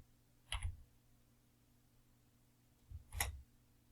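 Two faint, isolated key presses on a computer keyboard, about two and a half seconds apart, with each soft click standing alone in a quiet room while entering a Mathcad solver command.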